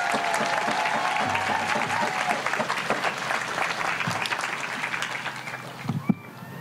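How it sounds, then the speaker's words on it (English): An audience applauds as a speaker's mother comes up on stage at a Walk to End Violence event, steady clapping filling the room throughout and fading slightly near the end. "So can we give my mother a round of applause?"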